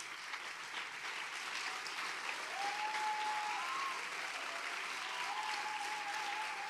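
Steady applause from a crowd, dense and continuous, with a few faint whistle-like tones rising over the clapping.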